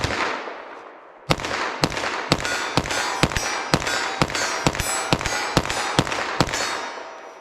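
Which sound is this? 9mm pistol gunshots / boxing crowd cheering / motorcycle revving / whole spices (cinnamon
9mm pistol gunshots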